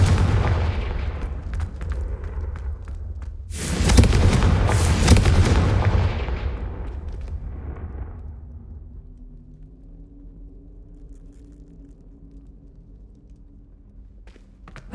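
In the Hogwarts Legacy video game, a Confringo blasting spell goes off as a sudden loud burst and explosion partway through. A crackling roar follows and fades into a low hum, with softer game effects before it.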